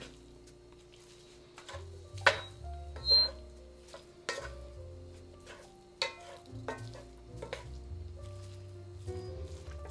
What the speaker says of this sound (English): I'm going to cook this flour a little bit